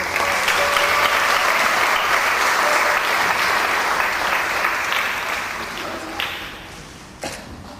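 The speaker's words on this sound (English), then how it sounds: "can we have the final round of applause for grade 5 and 6," School year-end celebration audience gives a final round of applause for grade 5 and 6 pupils, a loud full burst of clapping that gradually thins and fades, with a couple of sharp taps near the end.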